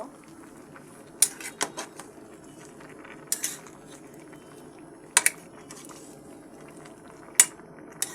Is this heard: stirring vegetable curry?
yes